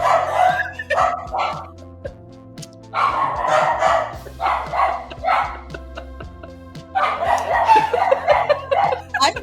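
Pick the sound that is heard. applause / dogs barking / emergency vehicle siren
dogs barking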